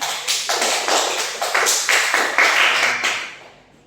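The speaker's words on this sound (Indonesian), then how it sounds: "Tepuk tangan buat teman-temannya" A small group of classmates claps for their peers in a classroom, a short burst of distinct sharp hand claps repeating in a loose rhythm over several seconds before fading out.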